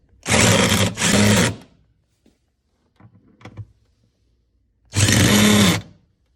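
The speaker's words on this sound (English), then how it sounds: "I'm going to snug these down with the impact" An impact wrench snugs down seat riser bolts in two quick, loud hammering bursts. A quiet pause with faint clicks and handling follows, then another burst.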